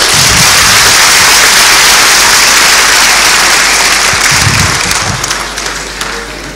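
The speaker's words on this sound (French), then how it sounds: "On peut applaudir ce monsieur urbaniste, poète, écrivain." Audience at a debate following a conference applauding an urban planner, poet and writer, loud, dense clapping close at hand that holds steady and then tapers off at the end.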